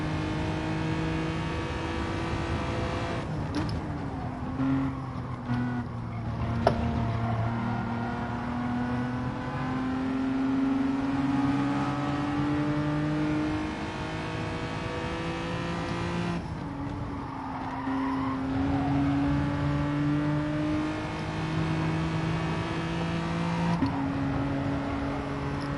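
A race car engine drones and revs in a racing game with a car that understeers, a sustained harmonic whine that drops and climbs through gear shifts, with brief tyre squeal, close and without speech.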